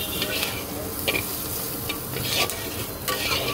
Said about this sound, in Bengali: খুব সুন্দর করে এখন 1 থেকে 2 মিনিট এটাকে কষাবো আমি।